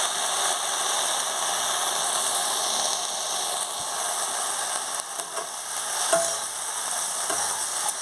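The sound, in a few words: pumpkin greens being stir-fried with onions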